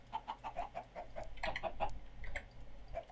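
A Minecraft chicken clucks in a quick run of short, soft, fairly close calls with brief gaps, then one more cluck near the end.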